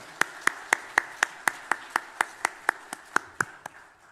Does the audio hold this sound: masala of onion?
no